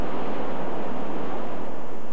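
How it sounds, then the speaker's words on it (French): A creek swollen into a raging torrent during the Saguenay flood in Jonquière, its water roaring loudly and continuously with a dense broadband rush and no pauses. "Toujours à Jonquière, un ruisseau s'est déchaîné."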